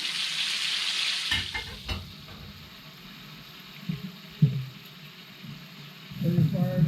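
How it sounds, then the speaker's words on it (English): Onions sauteing in a frying pan give a faint, soft sizzle with a few clinks and stirring knocks, growing a bit louder toward the end, with quiet speech at moments. "Now I'm going to put the onions in. Let those saute a bit."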